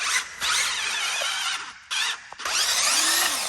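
Power drill with a left-handed bit working on a bolt, whining loudly in repeated bursts with brief stops, pitch shifting as it bites.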